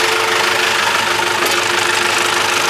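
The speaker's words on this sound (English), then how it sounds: "This is the landowner's tractor." A loud, steady engine rumble with a knocking idle, continuous and close, from a tractor running in place in four-wheel drive while pulling out a stuck vehicle.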